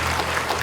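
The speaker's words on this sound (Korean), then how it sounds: "격려의 박수 한번 부탁드리겠습니다" A brief burst of dense, steady audience applause at an academic conference on Northeast Asian history, a crowd of hands clapping together.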